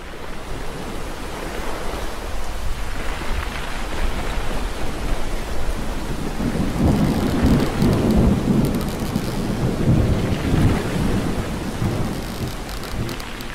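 A thunderstorm with heavy rain plays as a dramatic sound effect, with a continuous hiss of downpour and deep rolling thunder swelling and rumbling through the middle, loud and unbroken.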